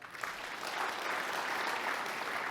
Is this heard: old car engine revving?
no